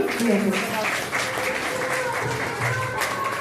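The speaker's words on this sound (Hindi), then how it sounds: "हाँ, तो एक बार जोरदार तालियां।" Applause from a small group at a birthday celebration rises under ongoing talk, brief and somewhat muffled.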